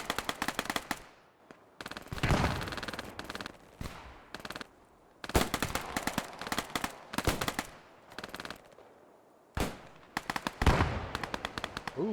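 A DP machine gun fires in a WWII video game, rapid close bursts separated by short pauses, alongside more bursts of gunfire throughout.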